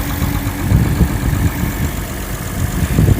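An Acura TL SH-AWD with a custom 4-inch cold air intake rumbles low and close, with a couple of brief swells in intake and engine noise over a steady idle.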